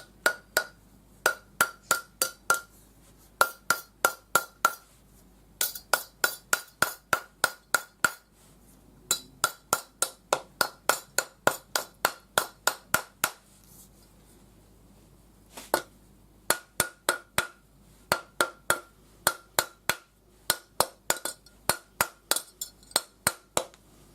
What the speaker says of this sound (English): using the rawhide hammer.